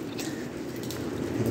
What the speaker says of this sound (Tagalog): Ito, umuulan oh.